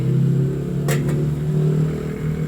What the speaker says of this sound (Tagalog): Kumulo na po yung ating tubig.